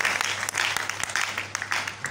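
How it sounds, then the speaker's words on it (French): An audience at a choir concert claps together in a brisk, dense burst of applause, steady and moderately loud, with a faint murmur of voices beneath it. "On applaudit encore une fois."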